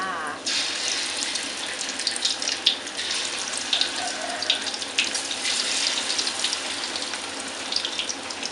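Steady sizzling and crackling of battered chicken skin frying in hot oil, a constant hiss with small pops scattered throughout.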